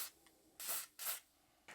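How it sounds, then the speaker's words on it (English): WD-40 spray grease sprayed onto a door hinge pin, three short hissing bursts from the aerosol can, each about a quarter second long, close and fairly soft with quiet gaps between. "So then I just spray a little bit of the grease right onto the pin."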